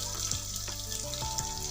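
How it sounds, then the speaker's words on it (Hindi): Chopped onions frying with cumin seeds in hot oil, a close, steady sizzle with a few soft scraping or stirring strokes and no voices. "वो भी हम इसमें ऐड कर देंगे और हम इसे फ्राई कर देंगे"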